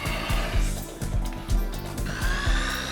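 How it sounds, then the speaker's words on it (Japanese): Power drill boring holes through lime plywood sheet for a small wooden tower PC case, steady motor whine with repeated low thumping pulses about every half second, close and fairly loud. "ドリルで穴を開けて、"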